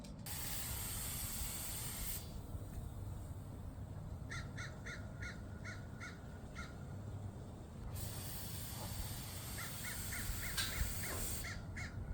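Spray paint hisses in long continuous bursts onto a 1948 Willys truck bed outdoors, with pauses between passes, while crows caw repeatedly in the background.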